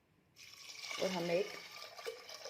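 Water being poured into a pressure cooker holding washed dal, a steady splashing, gurgling stream that begins after a brief pause and runs on close by, fairly soft, with no voices.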